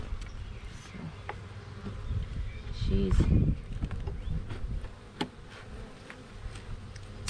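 Honey bees buzzing around hive frames, a close low hum that swells briefly in the middle, with people talking quietly nearby and a few small knocks.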